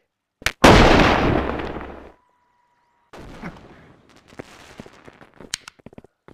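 A single loud gunshot fired in the Gorilla Tag Lethal Company game mode, a sharp crack with a short burst of noise, followed after a pause by scattered clicks and small game sounds.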